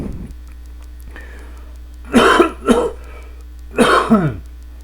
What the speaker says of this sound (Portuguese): um pouco de tosse aqui